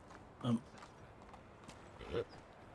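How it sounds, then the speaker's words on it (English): Hooves of a horse ridden through a tavern in the video game Medieval Dynasty, two soft muffled clops about a second and a half apart over a low background hum. "I'm riding my horse through the tavern."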